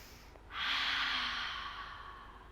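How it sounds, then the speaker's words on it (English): A deep breath drawn in during a yoga stretch, one long airy inhale starting about half a second in and slowly fading over two seconds, close and clear in a quiet room. "Deep breath in."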